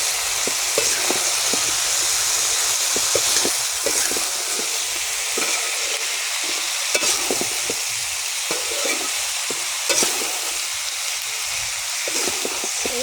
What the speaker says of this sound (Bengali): আবারও ভালো করে নেড়ে দিলাম